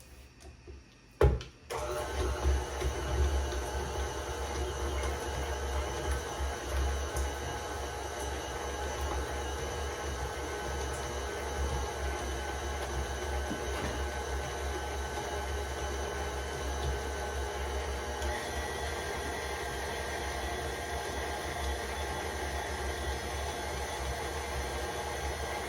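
A mixer creams butter and sugar together, a steady, unbroken mechanical whir that starts after a short click and holds at an even level throughout, with no talking.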